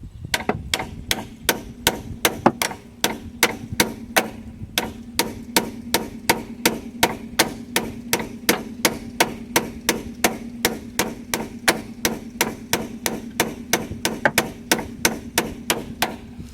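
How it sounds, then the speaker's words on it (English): Steady, rhythmic hammer blows striking a small metal push pin in a 1989 Jeep Cherokee door hinge, dozens of sharp taps repeating about twice a second, close and clear with no talking. "I can just beat the crap out of it with a hammer and hope she goes."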